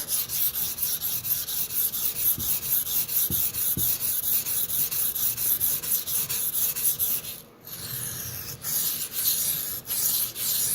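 A Sabatier paring knife stroked across a whetstone under medium pressure, steady rhythmic close rasping that repeats back and forth, pausing briefly near the end before resuming.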